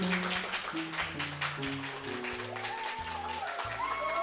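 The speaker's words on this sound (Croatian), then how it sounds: "ljudi su mu glasno pljeskali, stojeći klicali i silno mu se divili" A concert audience applauds loudly, a dense, steady wash of clapping that runs throughout with piano-like musical notes sounding alongside it.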